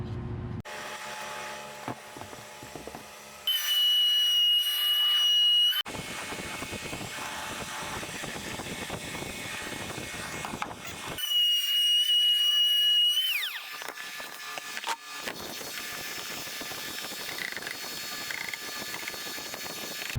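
A router on a router table cuts wood for an F-150 underseat subwoofer box, two loud whining bursts of a few seconds each with quieter mechanical clatter and handling noise between them.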